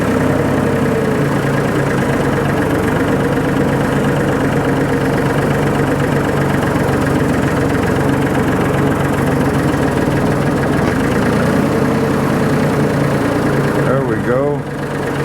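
Tractor engine idling under strain while its forks lift a heavy load of rock during road work, a steady loud rumble that continues throughout, with a voice faintly heard over it.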